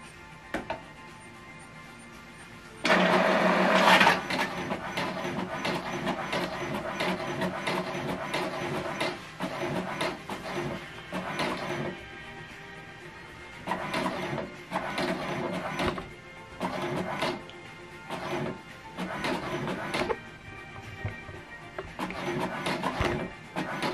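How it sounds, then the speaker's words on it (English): An HP DeskJet 2722 inkjet printer printing a colour page, with a loud feed burst at the start followed by repeated rhythmic carriage passes and short mechanical whirs, close by, with no talking. "So right now we print this out"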